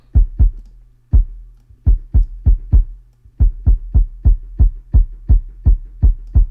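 A punchy kick drum with slight distortion in a pop/R&B music production, booming low thumps in a steady pattern of pairs and runs, loud and alone.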